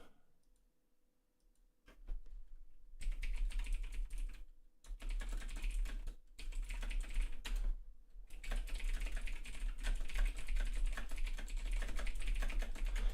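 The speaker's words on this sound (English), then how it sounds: "so you might hear how fast my typing is" Rapid typing on a computer keyboard during an Eve Online session, a dense stream of close, crisp key clicks that starts after about two seconds of near silence and carries on with a couple of brief pauses.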